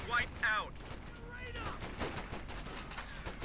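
Machine gun bursts and gunfire crackle through a Company of Heroes 2 match, with rapid broadband cracks scattered across the clip and a couple of louder early shots, while battle noise continues underneath.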